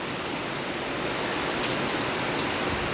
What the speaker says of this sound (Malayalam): മഴ പിന്നെയും കൂടി വരുന്നുണ്ടോ?